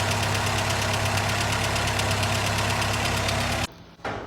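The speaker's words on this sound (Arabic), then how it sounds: "هو يخلّي الموتور شغال" A car engine runs steadily and loudly at idle with a rough, knocking vibration, then cuts off abruptly near the end before a brief return of sound.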